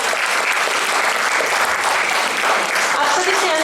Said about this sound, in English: huge round of applause for this auspicious beginning